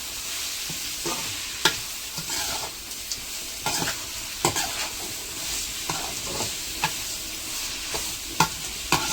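Onions sautéing with salt in a pan for a potato masala, a constant moderate sizzle broken by repeated sharp clacks of a spatula stirring against the pan.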